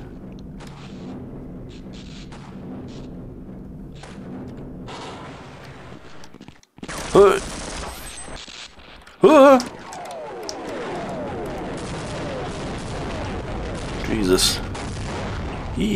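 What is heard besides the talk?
explosions and gunfire in Half-Life: Uplink video game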